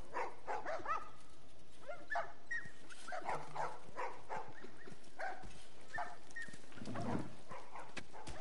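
Dogs barking, yipping and whimpering in the video game The Last of Us, a steady chorus of several dogs at moderate distance over game ambience.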